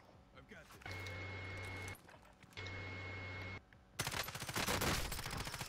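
Video game gunfire breaks out as a rapid, dense burst of sharp shots at close range, after a stretch of steady electronic tones.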